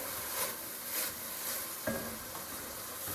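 White wine sizzles in a hot pan over onions for a chicken lasagna with bechamel sauce, as a steady, close, fairly loud hiss with a few faint stirring clicks.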